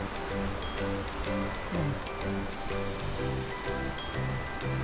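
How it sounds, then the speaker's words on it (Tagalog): Strong rushing water pours down in a steady broadband roar under an engine hum on a ride through Barangay Inagawan after rain, with a brief spoken word over it. "Malakas ng tubig. Lumaragas sa tubig."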